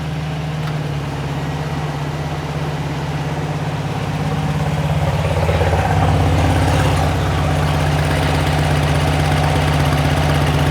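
A 1972 VW Beetle engine with dual carburetors idles close by, a steady low rumble with a slight uneven lope, growing a little louder partway through as a blower motor kicks on.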